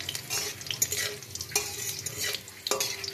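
Garlic bits stirred as they fry in a hot pan, a steady soft sizzle broken by a few sharp scrapes and clinks of the utensil against the metal, close up with no voices.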